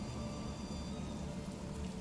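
Rain falling in a video game as a spell, a steady dense hiss without pauses, moderately loud and alone.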